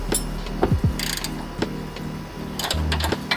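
Ratchet tightening bolts on the upper control arm of a 2007 Kia Sorento, rapid clicking pawl bursts in short repeated runs with brief metallic clanks between, close and fairly loud.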